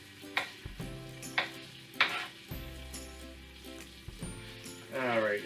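Chopped garlic sizzling in a pan: a gentle, steady hiss under clear utensil clinks and scrapes, with a spoken voice over much of it and a louder burst of sizzle near the end.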